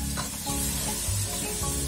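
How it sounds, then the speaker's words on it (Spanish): Chicken browning in a pan with onion and garlic gives a loud, close, continuous sizzle with light stirring movement throughout a brief stretch, no voices. "vamos a agregar nuestro pollo para que agarre el sabor de la cebolla y el ajo. Que se dore todo."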